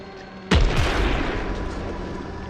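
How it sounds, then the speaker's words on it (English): A loud explosion in a video game mutator mode, with a sudden sharp blast followed by a rumbling boom that decays slowly over a couple of seconds. "Don't let those explosions fool you. They are very deadly."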